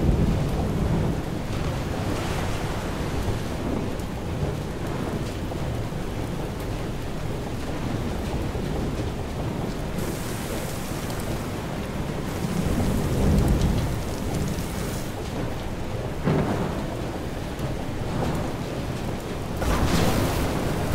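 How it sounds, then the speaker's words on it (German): A thunderstorm in the video game Far: Changing Tides, with steady heavy rain pouring continuously, swells of rumbling thunder, and a sharper crack of a lightning strike near the end, all without any talking. "Wieder ein Blitzschlag."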